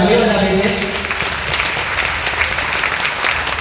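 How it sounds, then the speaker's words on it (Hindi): Loud, close applause from a crowd at a manifestation retreat in Delhi, welcoming the volunteer team. Steady, dense clapping fills the few seconds. "एक बार उनका स्वागत कर दीजिए, जोरदार तालियां बजा दीजिए।"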